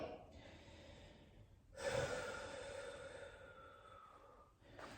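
A slow, audible exhale during floor core exercises, breathed out in a single long release of air with softer breathing before and after.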